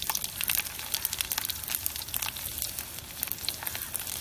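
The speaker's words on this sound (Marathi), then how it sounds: "तेल तापले आपण, जिरे घालतो आपण, लसूण बारीक कापून घेतलेला" Cumin seeds and finely chopped garlic sizzling in hot oil, with a dense crackling hiss and sharp pops, close and steady throughout.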